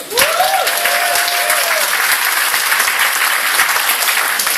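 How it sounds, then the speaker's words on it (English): A crowd applauds itself, dense, sustained clapping filling the room from start to finish, with a brief voice over the first second. "Give yourselves a round of applause."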